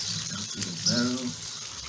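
Water draining out of a barrel through a siphon hose in an aquaponics setup, a steady close gushing and trickling flow with a voice briefly speaking over it.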